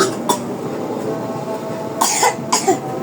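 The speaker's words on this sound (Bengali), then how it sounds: "আহারে কাশি আইতাছে পড়তে পড়তে।" A child studying gives three short, sharp coughs: one early on, then two close together near the end, heard nearby over a quiet background.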